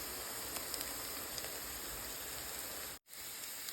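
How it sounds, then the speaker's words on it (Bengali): Peyaju, onion-lentil fritters, sizzle in hot oil with a steady, soft hiss and faint crackles, broken by a brief silent gap near the end. "পেঁয়াজু ফ্রাই করা অলমোস্ট ডান"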